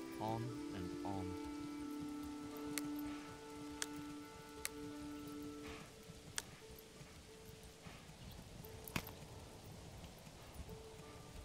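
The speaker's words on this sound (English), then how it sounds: "It's raining again." Rain falls in the medieval city-building game Manor Lords, a soft steady patter mixed with clip-clopping hooves, tonal game sounds and sharp clicks, fairly quiet.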